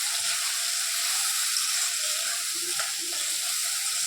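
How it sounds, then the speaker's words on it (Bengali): Spices and potatoes fry together in a pan, giving off a bright, continuous sizzle with faint stirring scrapes, close and steady throughout. "এর মধ্যে একবারে মশলা আর আলুটা একবারে কষে নেব"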